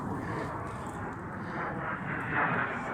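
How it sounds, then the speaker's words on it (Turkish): A steady, rumbling roar of aircraft engines fills the air, swelling slightly as the planes pass overhead. "Uçaklar uçuyor, teyyareler."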